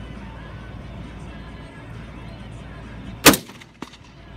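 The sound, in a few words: gunshot at the shooting range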